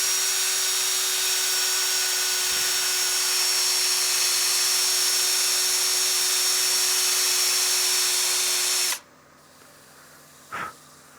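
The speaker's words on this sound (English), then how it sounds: "when I'm power sanding with a drill like this" A cordless drill fitted with a sanding attachment power-sands a wood platter in a steady, loud whine that runs for about nine seconds, then cuts off abruptly, followed by a brief faint knock.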